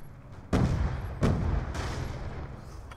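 Frag grenade blasts in Black Ops 2 multiplayer on PC: two sharp booming detonations about a second apart, followed by a third softer thud and rumbling decay, fairly loud with no voices.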